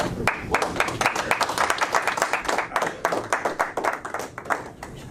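A county board meeting audience claps after a judge's oath of office, a close, lively round of many individual hand claps with distinct sharp strikes, steady and fairly loud.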